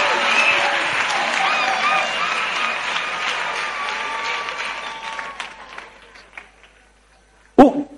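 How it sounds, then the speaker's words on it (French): Congregation clapping during a church sermon, a sustained wash of applause and cheering voices that fades out, followed by a sharp loud knock or thump near the end. "Clap for Jesus."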